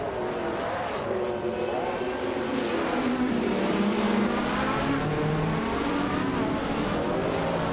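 Race cars roar around Automotodrome Grobnik in a Group 5 race, a 1982 Ford Mustang leading the pack, their engines a dense, continuous drone with rising and falling pitch sweeps, loud and unbroken throughout.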